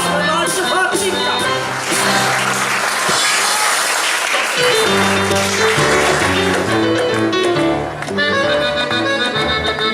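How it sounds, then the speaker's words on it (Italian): Audience applause at an outdoor performance, Maschio Angioino, a continuous wash of clapping mixed with loud music, steady and full throughout. "Pubblico, applauditemi"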